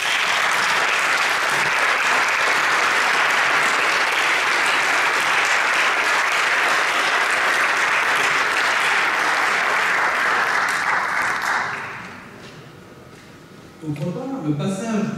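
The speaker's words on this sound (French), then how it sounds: "Et je voudrais qu'on l'applaudisse." An audience at a general secretary's moral report during a tenth congress breaks into loud, sustained applause for about twelve seconds, then the clapping fades and a voice begins speaking.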